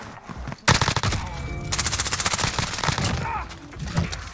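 Rapid automatic bursts from an MP5 submachine gun in the Modern Warfare video game, loud and close, with a burst of sharp shots settling into a steady chattering run of fire.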